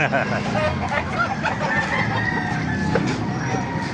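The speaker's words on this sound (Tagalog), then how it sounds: "Tingnan pa natin mga manok dito." A rooster crows amid a busy yard of clucking chickens at a chicken market in Baliuag, Bulacan, with a steady wash of background noise and some voices nearby.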